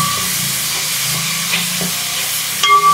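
Onions sautéing in oil in a pan until golden, with a steady close hiss of frying, a few faint knocks, and a short bright tone near the end.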